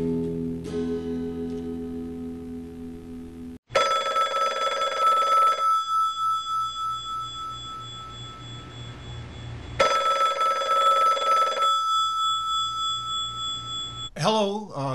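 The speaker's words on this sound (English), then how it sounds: "I'm calling in to do that interview for the Len Amsterdam show" A telephone rings with two long bursts of a bright electronic bell tone, separated by a pause, as a call-in interview for a country radio show begins; a short voice fragment follows at the end.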